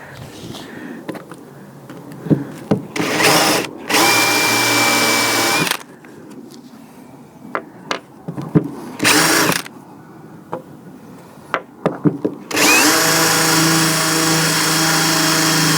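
A countersink bit driven by a power drill bores into wood for a gaming table build. Several short, loud bursts of drilling come between clicks and handling noises, and the last burst is the longest.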